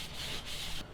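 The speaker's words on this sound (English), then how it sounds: "I'm going to just take a shop towel and just kind of go over and wipe it down." A shop towel rubs over a new slotted brake rotor on a Toyota Yaris, giving close, continuous soft scrubbing strokes that rise and fall with each wipe.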